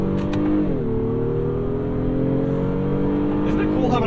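The V6 engine of a 2023 Honda Pilot Trailsport revs up in sport mode, heard from inside the cabin as a steady, rising drone with a smooth climb in pitch, and people talk over it.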